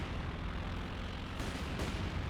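Mortar indirect fire thunders across a Company of Heroes 2 battlefield, a dense, continuous rumble of distant blasts with a couple of sharper impacts layered over the steady barrage, no voices.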